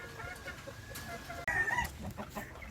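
Chickens in battery cages on a gamefowl farm. Several birds cluck and squawk nearby in a busy, overlapping chorus.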